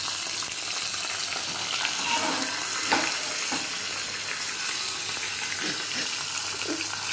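Green chillies fry in hot tempering oil with mustard seeds, cumin and asafoetida, making a loud, continuous close sizzle with scattered pops and occasional stirring scrapes.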